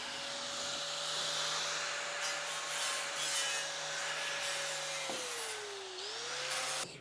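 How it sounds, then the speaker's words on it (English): A flap disc grinds burrs off freshly cut metal with a steady, rough rasping whine that bends in pitch as the tool's speed changes, continuous and fairly close, with no talk. "He's using a flap disc to do this, and it just kind of cleans up and dresses the area."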